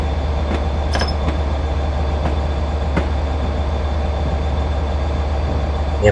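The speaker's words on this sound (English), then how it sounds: "There's a Pendolino coming in, an Avanti West Coast delivery." A Pendolino train from Avanti West Coast rumbles steadily past in Train Simulator Classic, a continuous loud rolling drone with deep low hum and a few faint clicks and squeaks over about six seconds.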